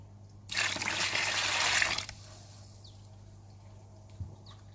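Water poured onto a block of expanding fiber growing medium while sowing seeds for aquaponics, a steady splashing pour for about a second and a half, then quiet with a faint drip afterward.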